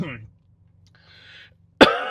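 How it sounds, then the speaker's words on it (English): A single sharp, loud cough bursts out near the end after a stretch of near silence, preceded by brief fragments of a voice. "I'm sorry for this cough"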